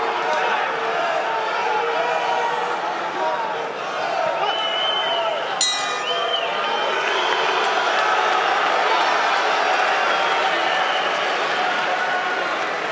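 Spectators at a boxing fight night bout between Austin Trout and Omir Rodriguez give off a constant, restless crowd roar and murmur, heard under steady commentary.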